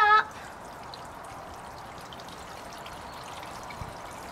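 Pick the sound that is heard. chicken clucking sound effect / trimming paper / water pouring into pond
water pouring into pond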